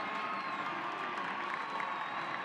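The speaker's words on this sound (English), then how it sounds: "crowd applauds the effort of Hannah Core." A crowd at a college softball game between Oklahoma and Iowa State applauds and cheers in a steady, fairly distant wash of clapping and scattered whoops that fills the whole moment.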